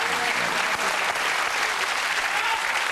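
Studio audience applauding steadily on a French-language quiz show final, a dense, even wash of clapping that holds at the same level for the whole stretch with no voices over it.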